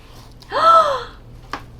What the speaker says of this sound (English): I don't know why I keep gasping like I'm seeing something.